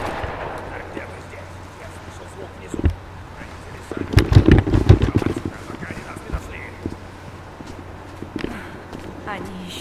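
Several sharp, booming shotgun blasts in quick succession from an old shotgun in Tomb Raider (2013), fired through a barrier, amid low rumbling background noise.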